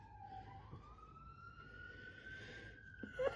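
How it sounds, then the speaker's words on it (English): A police siren wails in the distance, its pitch slowly rising and holding, faint and steady over quiet background hum. "can you hear the sirens?"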